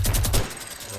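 Gunfire in the Fortnite Battle Royale video game rings out as a quick burst of three or four rapid shots, followed by fading noise.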